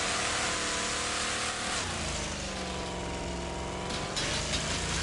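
A car engine in the racing game Wreckfest drones loudly and steadily, then bogs down, its pitch sagging before it slowly climbs back under load, with no one speaking.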